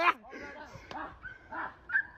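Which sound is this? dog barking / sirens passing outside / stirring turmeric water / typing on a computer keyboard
dog barking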